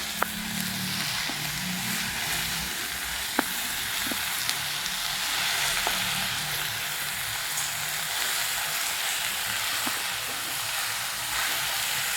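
Spinach for a Sindhi sai palak cooks in a pan with a steady soft sizzle, broken by occasional sharp clicks of a spoon stirring against the metal.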